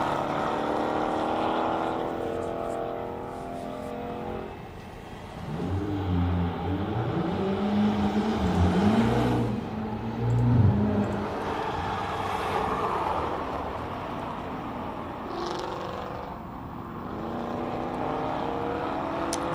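Ford Mustang race cars roar up the Simola hillclimb, their loud engines climbing and surging through gear changes, with the note swelling as a car passes close and then fading away.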